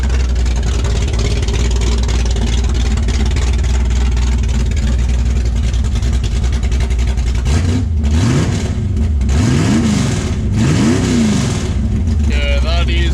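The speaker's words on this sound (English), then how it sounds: "What do you say we give it a bit of a rev?" Ford 351 Cleveland V8 in an XD ute with no exhaust pipes, loud raw idle that breaks into several sharp revs rising and falling in quick succession, close to the listener, with voices talking over it.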